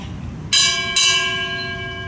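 A ship's bell tolls at a Veterans Day memorial ceremony at a veterans cemetery: two bright metallic strikes about half a second apart, loud and close, their ringing tones sustaining over a low outdoor murmur.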